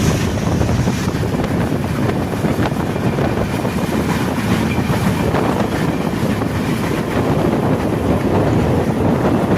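A KSR Bengaluru Express train travelling from Hazur Sahib Nanded toward Bidar, heard from inside a 3AC coach as a steady, loud rumble with continuous wind and rolling noise and no talk.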